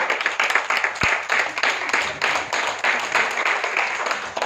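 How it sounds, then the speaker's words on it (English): Audience applause at a company presentation event, a steady wash of many hands clapping in dense, rippling bursts for the full length, fairly close and loud, with a single sharp louder clap standing out near the start. "Great applause to Vishesha."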